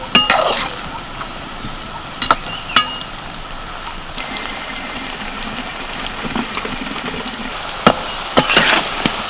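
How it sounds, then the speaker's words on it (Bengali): Marinated young jackfruit fries in hot oil, giving a steady close sizzle with a few sharp crackles and spatters scattered through, with no voices. "তেল গরম হতে বসিয়ে দিয়েছিলাম এবার একটা একটা করে এঁচোড় আমি ভেজে নেব"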